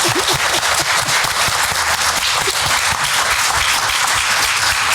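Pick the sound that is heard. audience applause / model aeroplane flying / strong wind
audience applause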